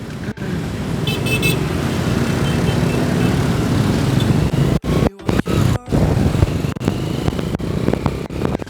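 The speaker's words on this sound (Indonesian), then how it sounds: "jalan-jalan seru-seruan sambil hujan-hujanan tadi naik Honda Win" An old Honda Win motorcycle rides through rain, its engine and the road noise forming a loud, continuous roar, with a short horn toot early on and several sudden drops and cuts in the sound.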